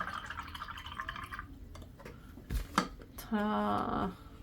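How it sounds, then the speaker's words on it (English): A paintbrush is rinsed in a cup of water, with soft sloshing and dripping, then a brief clink and a short burst of trickling, all quiet and close. "Let me give my brush a good rinse or two."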